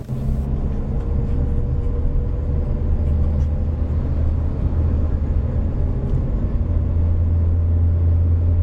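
Car engine pulling in second gear after a downshift while following a slowing truck uphill on a highway, a steady loud low rumble with continuous drone throughout.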